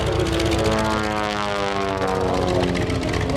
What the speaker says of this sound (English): As it climbs the airplane on the 45-degree upline, stopping the aircraft every 45 degrees